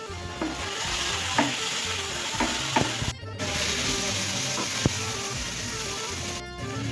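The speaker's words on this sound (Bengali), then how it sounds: "এবার হচ্ছে কুচনো যে বোয়াল মাছটা ভেজে রেখেছিলাম সেটা প্রথমে দিয়ে দেবো, তারপরে দিয়ে দেবো হচ্ছে বেগুন কুচানো ভাজাটা, দিয়ে এবার ভালো করে সব মিশিয়ে ভেজে নেবো।" Chopped boal fish and fried eggplant stir-fry in a hot pan, a continuous loud sizzle broken by repeated scraping and tapping of the spatula, with two brief gaps where the sizzle cuts out.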